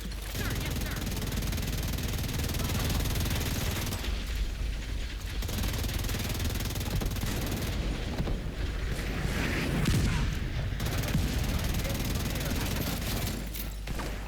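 Mortar blasts and gunfire from The Division 2, a dense, continuous wash of mechanical clatter and rumbling booms that stays loud throughout, with faint talk mixed in.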